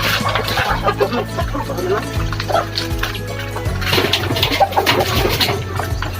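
Backyard chickens cluck and peck while eating vegetable-based feed, several birds close by with busy scratching and pecking noises and some low background chatter.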